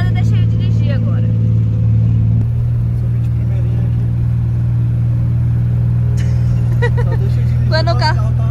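A car driven on the road, with a steady low engine drone and road rumble inside the cabin throughout, while people talk over it at moments.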